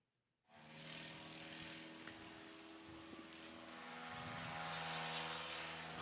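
A STOL propeller airplane lands into a crosswind at a STOL competition, its steady engine drone starting abruptly and growing slightly louder, heard alone without voices.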